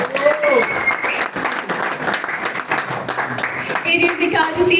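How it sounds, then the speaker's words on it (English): A crowd claps steadily for a birthday at a devotional evening gathering, the dense applause continuing for several seconds while voices and cheering carry under it. "So let's give him a round of applause."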